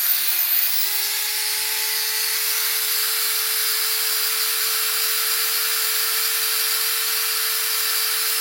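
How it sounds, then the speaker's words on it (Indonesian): An electric drill whines continuously at a steady pitch, spinning up briefly at the start then holding a constant high hum. "Ini bor."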